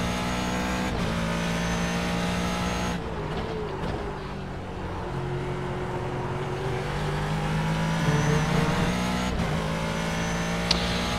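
Ford GT3 race car in the iRacing simulator at Road America, its engine droning steadily with harmonic tones that rise and fall through gear changes, loud and continuous throughout without talk.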